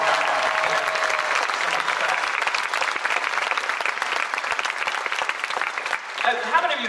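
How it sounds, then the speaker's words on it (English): A concert crowd at a live Nashville show claps in a dense, steady round of applause that trails off near the end as a voice begins talking. "could you give them one more round of applause?"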